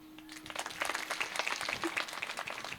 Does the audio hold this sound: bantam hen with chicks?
no